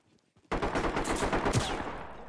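Gunfire in the tactical shooter game Ready or Not, a sudden burst of rapid, dense shots that starts after a quiet moment and keeps going loud and close for about two seconds.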